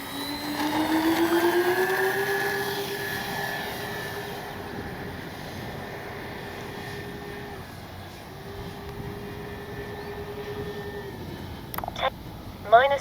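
An RC B-25J twin-engine model bomber makes a quick low pass, its engine drone swelling loud then easing into a steady distant hum, with a few sharp clicks and handling noises near the end.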